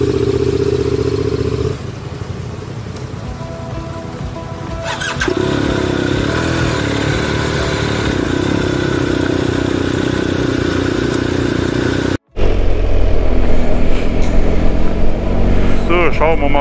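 A motorcycle engine turns over and settles into a steady idle on a motorbike trip through Scotland, loud and close, with its tone shifting once and a brief cutout before the running resumes.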